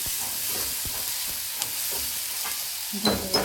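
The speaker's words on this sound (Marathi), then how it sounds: "भेंडी टाकून घेते यामध्ये" Okra frying in a masala-coated pan gives a steady, close sizzling hiss with scattered light stirring scrapes and a sharper clatter near the end, with no talking.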